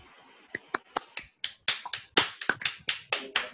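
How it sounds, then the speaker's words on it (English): Scattered claps from seminar participants joining online, arriving as a dozen or so sharp, uneven hand claps and taps that overlap irregularly, fairly close and crisp, with no talking. "give a clap for him for giving such a nice talk"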